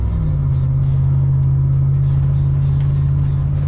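A RAM 1500 4WD pickup truck cruises on dry pavement at about 100 km/h, heard from inside as a loud, steady engine drone and road rumble with no break.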